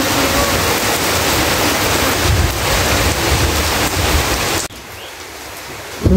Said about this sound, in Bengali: এই যে আবার বৃষ্টি নামছে, বৃষ্টি আজকে থামতেছে না।